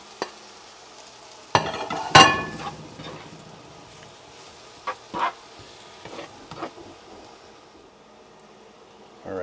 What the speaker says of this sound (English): Let's go ahead and add those potatoes back to the pan.